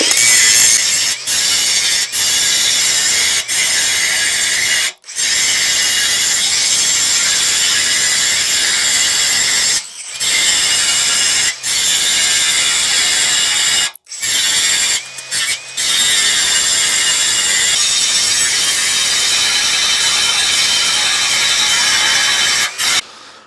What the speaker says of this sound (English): All right, time to clean it up with a grinder.